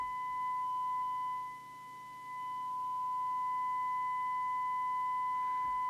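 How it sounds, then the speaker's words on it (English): A steady sine test tone from a signal generator, fed through an oscilloscope during radio alignment, holds continuously at moderate level with a faint higher harmonic line, alone and without talk. "This is sine wave, so I'm looking at the maximum recovered audio from L5."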